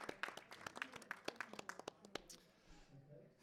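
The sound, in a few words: audience applause after a print is scored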